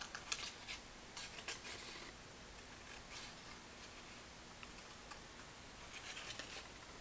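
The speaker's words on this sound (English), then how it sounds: "I'm going to make a cut there and then I'm going to cut a zigzag" Scissors snipping a zigzag through paper for a Japanese notan collage, soft quick clipped cuts in short bursts, close and faint, with light paper rustle in a quiet room.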